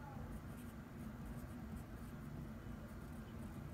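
Nib scratching across paper from a Platinum Plaisir fountain pen with a medium nib, written left-handed, giving a soft continuous close scraping texture under steady low background hum for a few seconds.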